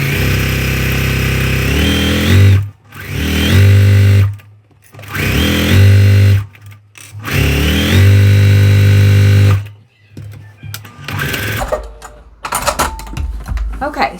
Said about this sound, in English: we're going to sew a 1/4 inch seam down the bottom of the pillow as well